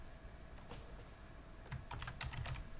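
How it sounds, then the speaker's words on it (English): A password goes in on a computer keyboard, quiet clusters of quick key taps over a steady background hiss, with the fastest burst near the end. "Type in again our password."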